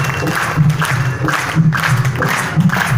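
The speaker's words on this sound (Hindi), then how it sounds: "ताली बजाओ" Crowd applause fills a temple gathering at a Shri Shyam annual devotional festival: dense, continuous clapping that swells in waves and stays loud throughout, with no talk over it.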